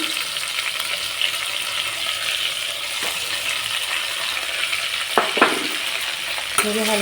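Eggplant and ground spice paste frying in a pan, a steady close sizzle with a few louder stirring scrapes and clinks near the end; no talking.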